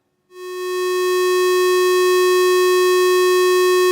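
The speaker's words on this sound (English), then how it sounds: "I've got the square wave connected up" A modular synthesizer's analog oscillator puts out a square wave: a loud, steady buzzy drone that starts abruptly and holds one pitch with rich harmonics, unaccompanied by speech.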